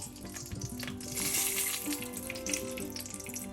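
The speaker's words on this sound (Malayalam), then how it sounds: "എല്ലാം കൂടെ ചേർത്തൊന്ന് ഇളക്കി" Quail egg masala stirred in a pan over low heat, a quiet continuous sizzle with soft scraping and a faint tonal hum in the background, no talking.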